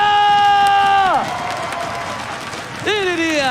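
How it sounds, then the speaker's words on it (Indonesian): A crowd cheers and applauds at an MPL playoff esports match between RRQ and Onic, the noisy roar partly buried beneath loud, bright music tones that slide downward, cut out, then return. "mana tepuk tangannya?"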